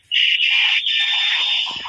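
A pigeon held close by gives a single sustained, strained call lasting nearly two seconds, loud and near with nothing else around it.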